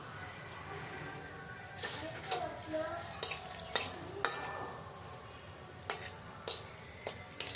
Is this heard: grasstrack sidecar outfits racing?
no